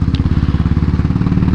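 A motorcycle on the move, its engine beating in a quick, regular pulse close to the mic, with a brief clatter near the start.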